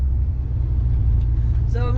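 A manual-transmission car cruises along with a steady low engine rumble and road noise inside the cabin, with a brief higher tone near the end.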